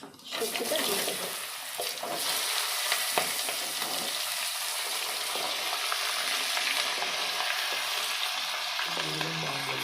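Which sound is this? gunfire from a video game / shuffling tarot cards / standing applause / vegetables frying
vegetables frying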